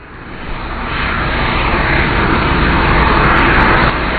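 NASA's Shuttle Carrier Aircraft 905 arriving at Kennedy Space Center: a loud, broad engine roar that swells and holds steady throughout, with no talk over it.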